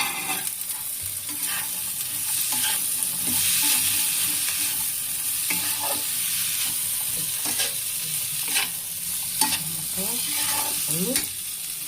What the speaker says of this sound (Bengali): এখানে কাঁচা মটর আর আলুটা ঢেলে দিলাম